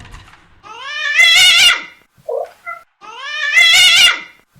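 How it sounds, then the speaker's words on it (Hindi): A cat meows loudly twice, long drawn-out caterwauling cries with a short chirp between them, close and alone against silence, in a Hindi horror story. "तब अचानक एक बिल्ली की आवाज आती है।"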